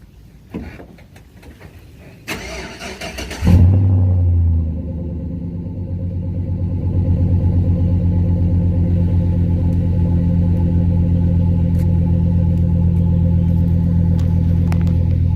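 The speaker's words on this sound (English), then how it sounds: "Try to cold start the truck." A 2006 Chevrolet Impala SS cranks with a low battery, a few rough starter bursts then the engine catches with a sharp roar and settles into a loud, steady low idle close by.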